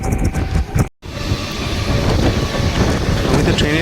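A Mumbai local train runs at night with a loud, continuous rumble and rushing wind noise, as heard from near an open door. Wheels clatter steadily underneath, and a brief dropout occurs near the start.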